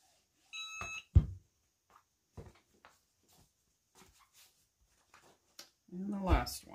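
A timer being set while ironing a lemon tea towel gives a short run of high electronic beeps near the start, followed by scattered soft thumps and clicks, with a person speaking quietly at the end.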